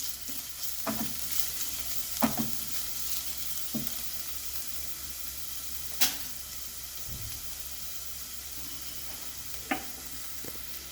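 Onion sizzles softly in oil for tempering, a low, steady hiss heard up close, broken by a few sharp clinks and scrapes of stirring spaced several seconds apart.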